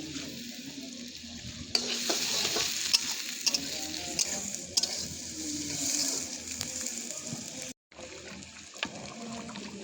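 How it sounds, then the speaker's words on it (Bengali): Rohu and catla fish sizzle and crackle in a hot pan while stirred and scraped through, with a brief pause near the end. "এখন মাছ ভুনা হবে"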